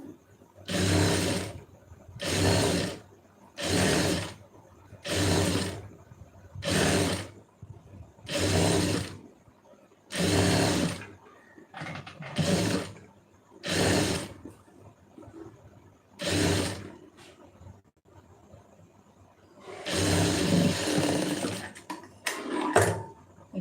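A sewing machine stitches fabric for a lined garment in short, regular bursts, about a dozen runs of a few seconds each separated by brief pauses, with one longer, busier burst near the end; close and moderately loud, with no talking.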